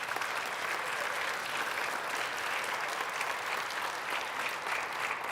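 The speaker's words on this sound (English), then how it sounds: "round of applause for you, please" An audience at the Interledger Summit 2025 conference applauds in a steady, dense wash of clapping that holds evenly for several seconds, with no speech over it.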